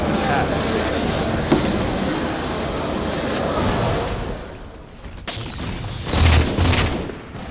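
Sniper shots in a competitive team shooter match, a few sharp, separate cracks over busy game noise, with players' voices talking over them.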